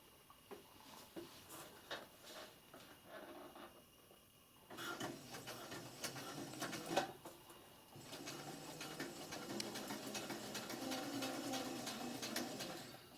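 A sewing machine runs in quick bursts while stitching copper strip into a fabric face mask, its motor whirring steadily near the mic with brief pauses between runs.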